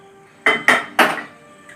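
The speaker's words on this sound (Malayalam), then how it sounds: "അപ്പോൾ നമുക്കിപ്പോൾ കുക്കറിൽ ഒന്ന് ചൂടാക്കാൻ വയ്ക്കാം" A metal pressure cooker is set down on a stove in a home kitchen making semolina cake, giving three sharp, loud clanks in quick succession before the ringing fades.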